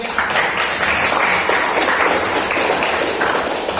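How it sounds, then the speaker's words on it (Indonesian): A classroom of students claps for a classmate, a brief, fairly loud burst of mixed hand claps that continues evenly for a few seconds. "Boleh tepuk tangan dulu buat teman kalian."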